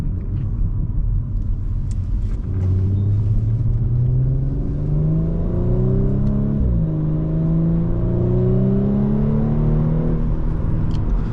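A 2020 Audi S4 with its 3.0-liter turbocharged engine rumbles steadily and rises in pitch under load, with a quick dip and recovery midway like a gear change; it is loud and close, and no one speaks.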